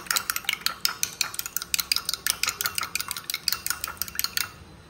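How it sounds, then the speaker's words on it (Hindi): An egg with a pinch of salt being whisked briskly in a bowl, giving a steady run of quick, bright metallic clicks and taps close by for several seconds, with no voices. "हितून न्हू इल्लें पिंच भर सॉल्ट एड करता आनी तेका विस्क करता."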